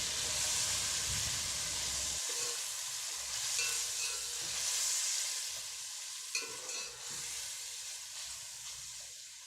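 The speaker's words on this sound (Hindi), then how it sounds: "अब मैं ये गोश्त जो मैंने इसमें से यखनी में से निकाला है ये इसमें डाल रही हूँ और अब इसको 5 से 6 मिनट हम फ्राई करेंगे" Mutton pieces fry with onions and garam masala in a pot for pulao, a loud continuous sizzle and hiss with occasional stirring scrapes, close up and without speech.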